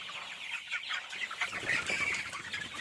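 A flock of chickens on a poultry farm with rice-husk litter clucks and chatters in a steady indoor din, with occasional faint wing flaps and no talking.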